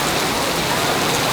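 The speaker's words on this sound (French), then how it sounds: "il s'est mis à pleuvoir comme ça." Rain in Yokohama, a steady dense hiss of falling drops covering everything evenly, loud and continuous for the whole moment, with no voices.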